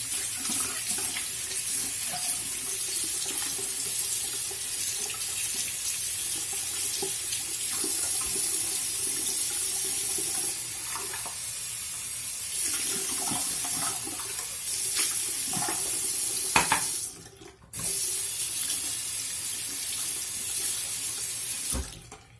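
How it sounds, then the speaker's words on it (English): A makeup brush is rinsed under a running tap at a sink, with a steady close rush of water that briefly cuts off and resumes near the end, with no talking. "I'm going to rinse off the brush"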